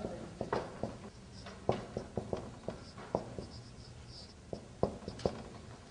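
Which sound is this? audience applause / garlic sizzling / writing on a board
writing on a board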